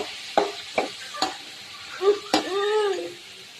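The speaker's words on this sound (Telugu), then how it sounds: "నేనైతే కర్రీ చేస్తున్నాను ఇక్కడ, లివర్ ఫ్రై ఈరోజు" Liver fry sizzling softly in a pan, with a few sharp taps of a spoon against the pan while stirring and a brief faint voice-like sound near the end.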